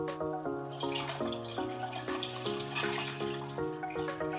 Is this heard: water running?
yes